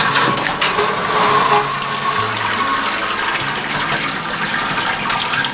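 Wort pouring and splashing steadily as the grain basket is lifted out of a Grainfather all-in-one brewing system after mash out for a Hefeweizen, a continuous close rush of running liquid with no talking.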